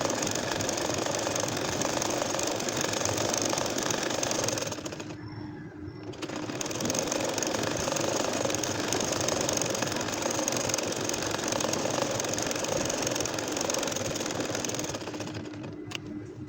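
Ordinary home sewing machine stitching a nakshi kantha quilt with a date-palm-leaf pattern, running in a loud, continuous mechanical whir that halts briefly near the middle, then resumes.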